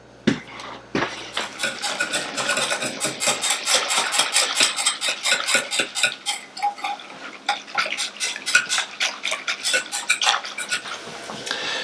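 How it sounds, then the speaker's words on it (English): A spoon stirs hot cocoa powder into creamy milk in a pot, giving a long run of quick, bright metallic clinks and taps against the sides, steady and close with no talking. "So I mixed the hot cocoa powder in, the milk."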